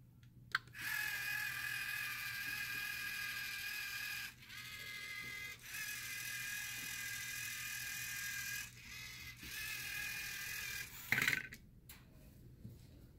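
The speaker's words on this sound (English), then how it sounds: "this gripper will just release and let it go" LEGO robot with a gripper attachment running motors as it releases a red brick at a 3D printer mission model, with several sustained mechanical whirring stretches broken by short pauses and a final clunk, close and moderately loud.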